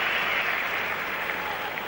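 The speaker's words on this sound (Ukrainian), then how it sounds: "на ваших екранах заслужив оплески" Stadium crowd applauding after a volley shot at a Newcastle vs Dynamo Kyiv Champions League football match, a dense, steady wash of clapping and crowd noise that holds at a constant level throughout.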